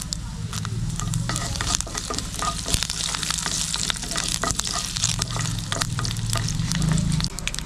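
Steady crackling sizzle of mustard seeds frying in hot coconut oil, with scattered sharp pops and spatters throughout, loud and close, no voices.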